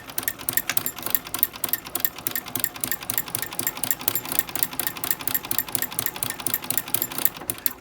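A sewing machine fitted with a ruffler foot pleats fabric, a fast, rhythmic clatter of needle and foot strokes running steadily and close with no talk.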